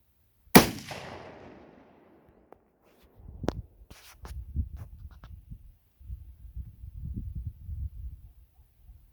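A single sharp rifle shot from a sporterized .303 British Lee Enfield No. 4 Mk 1 cracks loud and close, trailing off in a decaying echo, followed by faint shuffling and handling noises.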